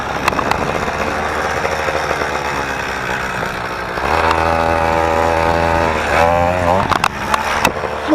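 A motorized BMX bicycle engine fitted with a new exhaust buzzes and revs in sharp rising bursts, the raspy two-stroke whine climbing and dropping repeatedly, loud and near.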